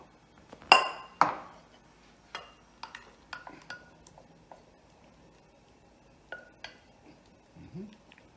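Food being spooned into a small glass bowl in a home kitchen, a few bright clinks and taps of utensil on glass spread out irregularly, quiet and close with near silence between.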